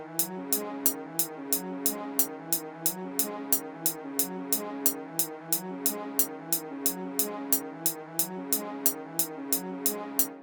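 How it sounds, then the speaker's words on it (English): A recreated synth melody loops in steady, repeating phrases, quiet and even, with crisp ticking hits cutting through at a regular pulse throughout. "I tried to recreate the melody, which sounds like this."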